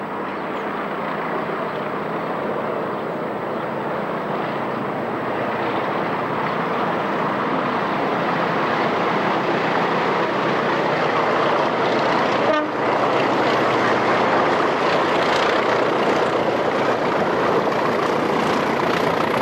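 A Class 20 diesel locomotive pulls a passenger train away from Rhyl station, a steady broad engine rumble and rail noise holding for the whole stretch, with a brief sharp disturbance about midway.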